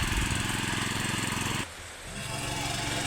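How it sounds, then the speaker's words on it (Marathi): A farm ploughing machine works a field with a loud, rough, chugging engine drone that drops away briefly in the middle and then picks back up. "गणेशने मशीन अशी चालू केली की गरागरा मशीन फिरवायला लागला"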